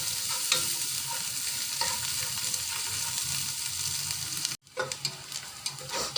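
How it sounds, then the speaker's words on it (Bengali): Chopped onions with green chilies frying in a pan and being stirred, a steady close sizzle with scraping strokes, cut by a brief dropout before the crackle picks up again in uneven bursts. "এই যে পেঁয়াজ ভাজা আমার হয়ে গেছে হালকা বাদামি"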